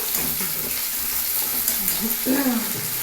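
Fish roe hits a hot pan for a fish roe dish, giving a steady frying sizzle that runs under intermittent speech close by.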